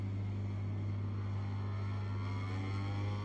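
A Ducati GP23 racing motorcycle in the MotoGP 23 game drones with a loud, steady, high-revving engine whine that holds constant throughout, close and continuous with no talk.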